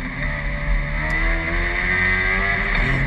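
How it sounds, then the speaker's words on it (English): Race cars, including a Ginetta, accelerate down the straight at Kirkistown circuit, producing a loud continuous engine roar with layered rising tones and a deep low rumble throughout, with no voices. "Jimmy has a slight advantage, and then the power and the aerodynamics kick in. The Ginetta's away again"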